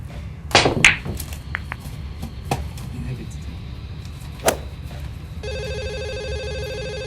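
Telephone ringing for an incoming caller during a live broadcast show, with a few thumps and clicks early on, then a repeating electronic ring tone rising in the final seconds, heard clearly with nothing else over it.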